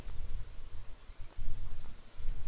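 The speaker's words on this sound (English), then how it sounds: "It's raining!" Steady rainfall in the farming game Stardew Valley, a soft continuous patter of drops with a low rumbling wash that swells and dips in waves.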